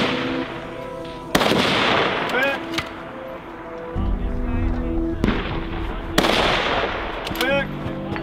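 Precision rifle shots at steel targets during an NRL match at the Bighorn Steel Classic: two loud, sharp reports a few seconds apart, each followed by rolling echo and a faint distant ring of steel, with people talking between.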